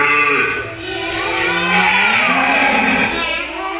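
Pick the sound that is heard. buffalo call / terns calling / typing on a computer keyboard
buffalo call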